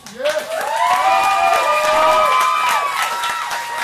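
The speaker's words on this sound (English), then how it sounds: "Either way, a big round of applause for them" Loud crowd applause and cheering at a comedy roast, with whoops and shouts rising over sustained clapping for the performers, close and full for several seconds.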